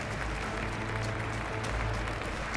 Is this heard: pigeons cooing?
no